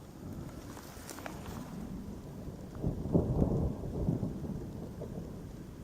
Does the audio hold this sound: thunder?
yes